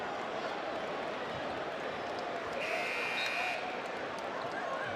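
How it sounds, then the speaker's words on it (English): A college basketball arena crowd at a Miami Ohio versus UMass game rises in a sustained roar, urging a shot on; steady broad crowd noise with a brief whistle-like tone midway, no clear talk. "Crowd tried to urge that one in"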